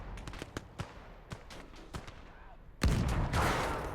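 Video game artillery and gunfire in a battle: a series of sharp distant reports spaced irregularly, then a loud nearby blast with a long rumbling tail.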